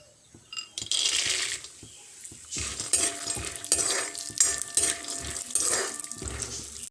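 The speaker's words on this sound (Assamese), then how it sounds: "এতিয়া মই বাদামখিনি ভাজি লম" Peanuts fry in hot ghee in a kadai while being stirred, producing bursts of rattling, scraping spoon-on-metal sounds over a soft sizzle, close and moderately loud in uneven waves.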